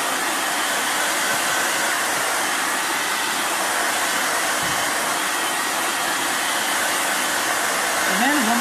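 A hair dryer blows steadily on a glued stencil, a loud, constant airy whoosh held for several seconds close to the mic.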